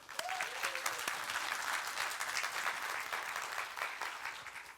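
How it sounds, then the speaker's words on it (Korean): Steady applause from a church youth gathering fills the room at moderate distance, dense and even throughout, with no voices over it. "그래 박수 세게 한번 쳐줘요"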